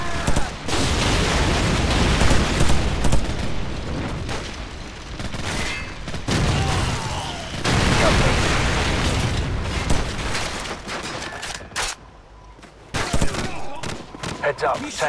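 Call of Duty 4: Modern Warfare combat with a frag grenade blast and dense gunfire, loud continuous bursts and booms filling the scene, with a brief lull near the end before shooting resumes.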